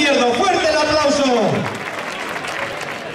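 A crowd applauds at a bullfighting event in Alagón, Zaragoza. A loud announcer shouts over the clapping, and the applause fades toward the end.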